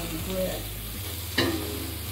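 Ginger, onion, green onion and garlic sauteing in a pan: a short burst of sizzling with one sharp stirring scrape partway through, close and steady, under background music.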